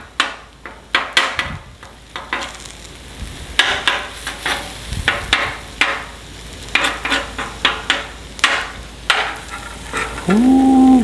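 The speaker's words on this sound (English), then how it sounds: "now it's time to actually start stirring up these eggs in here" Eggs being stirred in a frying pan for shrimp fried rice, close and loud, with repeated sharp scraping and tapping strokes of a utensil over a low sizzle, then a brief tonal hum near the end.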